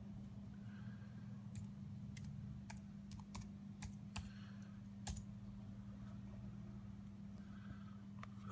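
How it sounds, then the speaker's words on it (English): Quick typing on a Late 2012 iMac keyboard, a run of sharp, irregular key clicks over a steady low room hum, with no voices. "I'll just quickly type."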